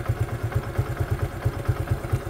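A Suzuki Gixxer 150 motorcycle engine idles at 1000 rpm, a steady low chugging pulse with a rhythmic clatter, close by and at moderate loudness.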